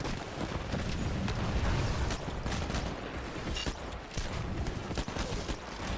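Smart pistol gunfire in the Titanfall video game, rapid bursts of sharp shots stacked over a busy firefight, loud and close, with explosions and other weapons crackling throughout.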